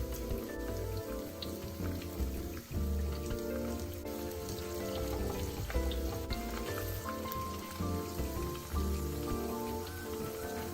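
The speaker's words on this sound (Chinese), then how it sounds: "一直油炸至成品酥脆金黄色就能捞起。" Prawn cracker batter deep-fries in hot oil in a wok with a dense, continuous crackling sizzle that holds steady and close throughout, with no voices.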